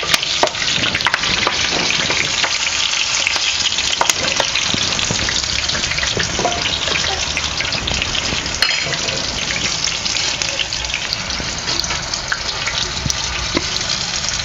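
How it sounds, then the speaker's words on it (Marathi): Broken green chilies fry in hot oil for bread pakoda, giving a loud, dense, continuous crackle and sizzle with scattered sharp pops throughout and no talking. "तर आपण मिरची सुद्धा आपण तळून घेऊया"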